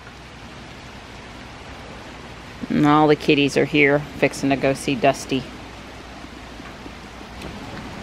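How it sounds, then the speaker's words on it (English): Light rain falls outdoors as a soft, steady hiss running throughout, faint and even, while a person talks briefly over it in the middle. "It's not raining too heavy right now."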